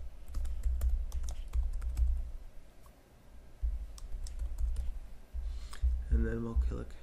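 Name typed on a computer keyboard while setting up a Catalyst data store in backup software: a quick run of light key clicks, close and steady, with a short pause midway and a voice speaking over the end.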